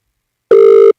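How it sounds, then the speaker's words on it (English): A telephone ring plays over a studio sound system during a live radio show, a single short, loud, steady electronic tone lasting under half a second after silence. "we're just going to make a phone call"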